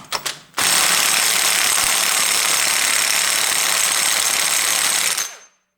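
Pneumatic impact tool loosening a nut on a Honda Civic automatic transmission, a loud continuous mechanical rattle lasting about five seconds after a couple of short bursts, close to the listener with no talk.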